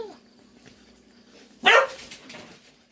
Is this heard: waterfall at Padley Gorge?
no